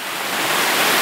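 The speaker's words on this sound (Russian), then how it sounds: "Вот там ручей." A mountain stream runs through forest, giving a steady, dense rushing wash of water that stays constant and fairly loud for the whole moment, with no voices.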